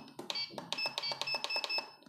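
A radio control transmitter on its 'mega sound' setting plays a quick series of about eight bright electronic beeps in an uneven rhythm, close and clear over near silence.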